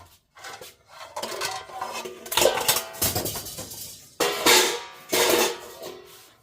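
Metal frying pans clank and scrape as they are handled while dumpster diving, giving a series of irregular clattering knocks and jangles, some loud and close, with no talk.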